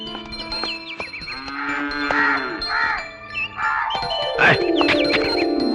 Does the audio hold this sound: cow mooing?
yes